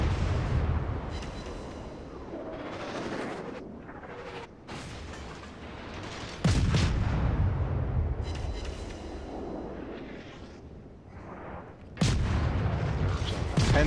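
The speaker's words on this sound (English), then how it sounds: "here's my last salvo of torpedoes" Torpedo salvo fired from a Clemson destroyer in World of Warships, with several heavy booming launches and crashes over a rumbling game soundscape, each burst loud and followed by decaying noise.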